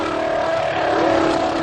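Honda Formula One engine at over 18,000 RPM, held against the rev limiter in a steady, buzzing high-pitched drone that stays loud and close for the whole short stretch.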